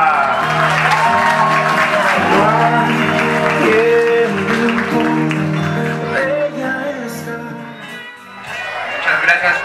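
Wedding reception guests applauding, a dense burst of clapping with cheers and crowd chatter that fades toward the end, with someone speaking over it.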